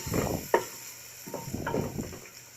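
Ground chickpea paste being stirred into masala in a pan: a few soft scraping strokes and a brief knock of the spoon over a light sizzle, fairly quiet and close.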